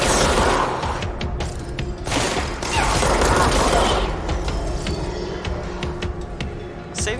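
Rapid bursts of gunfire from the video game Control, dense and loud with mechanical clatter, continuing throughout with a voice talking underneath.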